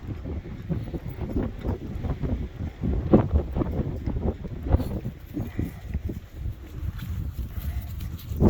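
Gusty wind blows steadily outdoors on a cold, sunny day, a broad rumbling rush with bursts of louder gusts buffeting the microphone throughout.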